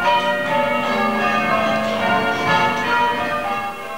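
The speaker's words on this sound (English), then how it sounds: "they've been ringing out the bells for the Queen Mother today" Church bells ring out across the UK in August 2000 for the Queen Mother's birthday, a dense, continuous peal of overlapping strikes that resonate loudly with no voices.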